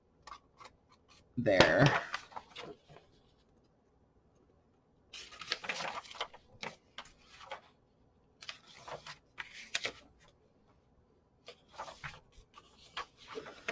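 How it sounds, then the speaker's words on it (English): Pages of an old book being cut apart come through as sparse, crisp bursts separated by quiet gaps, close and fairly faint, with a person talking in between. "This is a pretty old book. I'm just going to cut this one apart"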